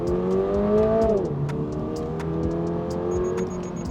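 A 2023 Subaru BRZ engine revs up in manual mode with Sports Plus engaged, its rising harmonic tone climbing, dropping as it shifts, then pulling steadily again, loud and close throughout.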